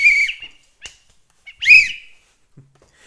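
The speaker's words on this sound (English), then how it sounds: "You do the double whistle." Two sharp, shrill whistle blasts of the kind a basketball referee gives, one short and one longer, separated by silence, with a faint low thump late in the clip.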